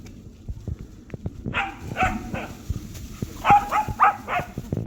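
Several dogs out on a woodland walk give a few short, mid-distance barks and yips in two brief bursts, over a steady background of rustling and footsteps.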